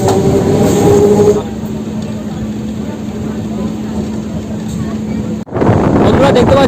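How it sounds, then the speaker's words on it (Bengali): A Goghat local train on the Howrah to Rishra line running at speed, giving a loud, steady rumble and rattle that drops briefly before surging back. "প্রচুর স্পিডে ছুটছে আমাদের এই গোঘাট লোকাল"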